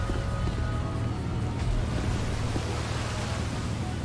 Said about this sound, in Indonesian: Waduh, ini kok kapal kita kena ombak ini.